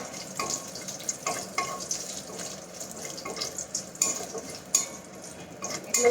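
Raisins and cashews fry in a pan for pulao, giving a steady close hiss with scattered small crackles and pops throughout, with no talking.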